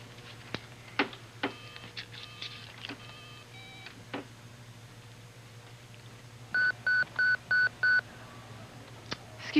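Telephone keypad dialing: a run of short electronic key tones at uneven intervals, then five evenly spaced louder tones in a row, heard close and alone over a faint steady hum.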